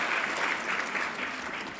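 An audience at a live awards ceremony applauds the finalists with steady, continuous clapping from many hands, fairly loud and close, with no talking.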